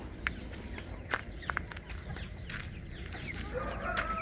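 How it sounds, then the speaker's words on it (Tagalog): Pure white US silkie chickens cluck and call in short, sharp bursts scattered over a steady low rumble of farmyard background, fairly faint overall. "pure white US silky"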